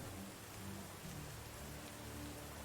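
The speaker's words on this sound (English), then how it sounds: "And it's raining." Steady rain in the video game Medieval Dynasty hisses continuously, a dense patter of drops with a low rumbling undertone, no voices.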